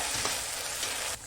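Onion, ginger-garlic paste, cumin and coriander powder frying in a pan as they are stirred, a steady close sizzle with a couple of scraping strokes, cutting off abruptly near the end.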